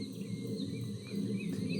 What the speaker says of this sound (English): Let's move forward to the common redshank.